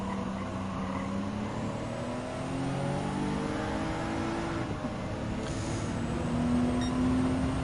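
Honda NSX Type R in Gran Turismo 7 racing, its engine whining and climbing in pitch through repeated upshifts, loud and steady with no voices.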